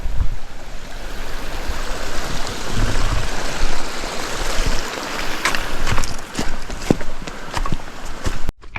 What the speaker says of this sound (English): Got a little creek going down here.